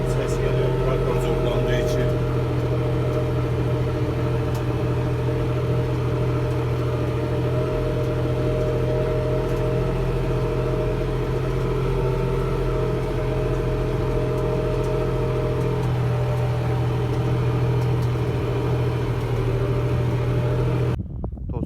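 A tractor engine drones steadily with a low, even hum and rumble while ploughing a field, heard from inside the closed cab, before cutting off at the very end.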